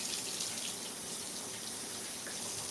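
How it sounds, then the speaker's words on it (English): A kitchen tap runs steadily into a sink while hands are washed, a continuous close wash of water with no break and no speech. "Let me wash my hands"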